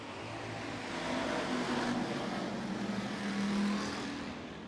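Stock cars race nose to tail around a dirt oval at Clay County Speedway, their engines forming a loud, steady roar that swells and fades as the pack passes.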